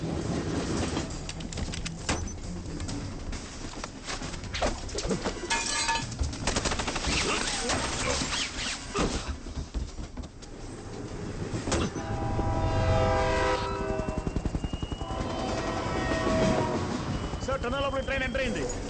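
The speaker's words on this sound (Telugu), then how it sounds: "ఫుల్ ట్రైన్ వెళ్ళడానికి ఇంకా 20 సెకండ్సే ఉంది" A train rushes through a tunnel in an action fight scene, a loud continuous rumbling roar with rattling, a horn blast and gunfire-like bursts, with voices talking over it.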